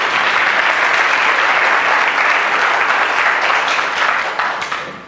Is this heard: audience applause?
yes